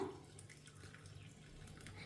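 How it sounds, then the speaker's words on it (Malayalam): Hot water poured over tamarind soaking in a bowl makes a faint, steady trickling and splashing, quiet and continuous, with no voices. "പുളിയുടെ നെകയ്ക്ക് നല്ല ചൂടുവെള്ളം അങ്ങ് ഒഴിക്കുവാണ്"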